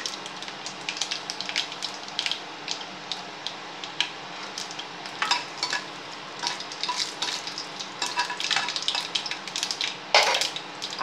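Dried red chillies crackle and sizzle in hot oil in a pan while being stirred, with steady frying hiss and scattered pops, one louder burst near the end, no talking.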